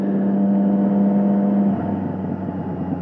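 A Triumph Street Triple 675 motorcycle's exhaust hums at a steady, loud idle with a strong low drone, then the tone drops and turns rougher as the engine settles, close by and with no talk.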